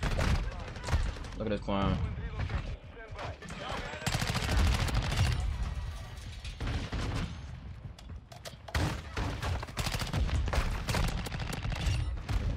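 LMG fire in Call of Duty MW2 multiplayer comes as loud, dense automatic bursts and gunfire volleys that fill most of the clip, while a player talks over the shooting.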